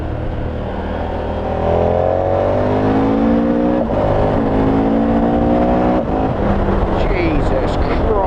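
A 2019 KTM 1290 Super Adventure, a 160bhp touring motorbike, ridden flat out at full throttle: a loud, sustained engine roar with rising pitch sweeps through each gear, under heavy wind rush and without a break.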